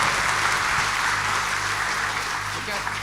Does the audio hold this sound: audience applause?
yes